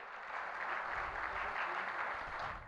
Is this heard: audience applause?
yes